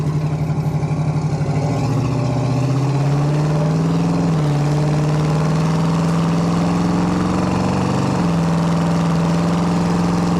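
A 1968 Chevrolet C10 short-wheelbase pickup cruises along, its engine and exhaust giving a steady low drone whose pitch steps up and down slightly, moderately loud and continuous with no talking.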